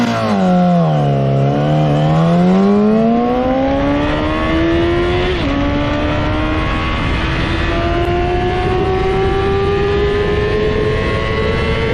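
Yamaha YZF600 R6 600 cc motorcycle engine revs loudly up close, dipping briefly before climbing into a sustained high, rising whine that holds steady to the end.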